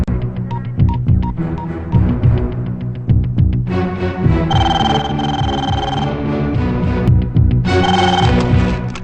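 A landline telephone bell rings repeatedly in a room, the rings coming in bursts over a busy backdrop of low music-like tones.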